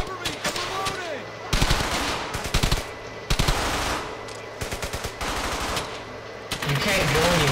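Automatic and rifle gunfire in Brothers in Arms: Hell's Highway, loud and close, coming in repeated rapid bursts with short gaps between them, some long sustained volleys, and shouted voices underneath.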